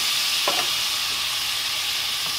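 Butter and lime juice for a honey sriracha wing sauce sizzle loudly in a pan, making a dense, continuous hiss with a couple of faint utensil touches and no talking.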